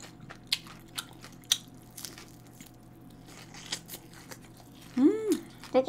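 Chewy jjolmyeon noodles being chewed close to the mic, with soft irregular wet bites and squishes, quiet at first and then a louder burst of chewing near the end.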